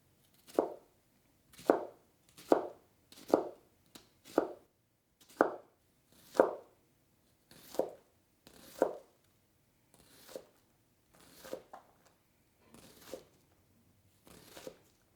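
A knife cuts through an onion on a small cutting board, a steady series of about fourteen crisp chopping strokes roughly one per second, close and clear, gradually softening toward the end, with no talking.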